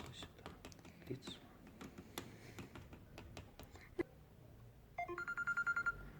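After a stretch of soft clicks and taps, a telephone rings near the end in a rapid pulsing burst of repeated electronic tones, part of a LEGO fire-in-the-forest play scene.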